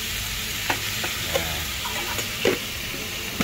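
Pechay greens being stirred with salt in a hot pan: a soft, steady sizzle broken by a few short, scraping spatula strokes spaced about a second apart.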